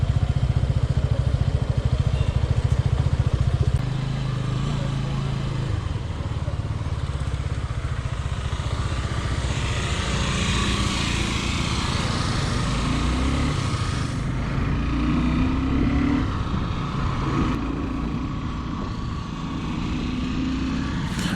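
A Suzuki Gixxer SF 250 BS6 motorcycle being ridden, its single-cylinder engine droning steadily close by with wind rush and shifting revs, louder at the start, with some talk mixed in.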